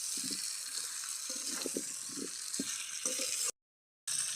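Jackfruit and potato curry is sautéed in a pan, with a quiet background sizzle broken by intermittent scraping and clacking from stirring, then a brief silence before the sizzle resumes.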